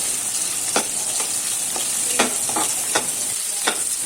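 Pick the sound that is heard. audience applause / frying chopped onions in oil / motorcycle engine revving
frying chopped onions in oil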